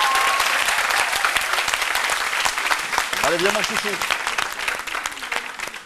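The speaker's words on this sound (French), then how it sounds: "Veuillez l'applaudir très fort et vous applaudir vous aussi." A television studio audience applauds loudly and continuously, a dense wash of clapping with brief talk heard over it.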